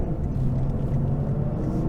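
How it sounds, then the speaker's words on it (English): A 2023 Lexus RC 350 F Sport coupe idling, giving a steady low, throbbing engine rumble with a soft chug, heard close and alone for about two seconds. "it has a nice chug to it, a good vibration that's not rattling the car, but just kind of massaging you"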